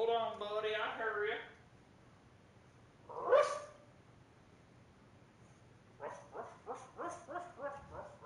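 A puppy barks and yips in bursts, a short cluster at first, a single sharp yelp, then a rapid run of high yips near the end, with a voice nearby.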